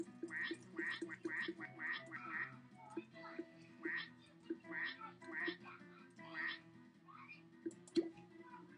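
A voice imitates a duck with a steady run of nasal quacks, about a dozen evenly spaced calls over several seconds, soft and close.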